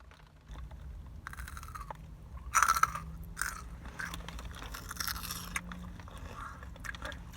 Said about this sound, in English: Did you hear that crispiness? That was a good crunch.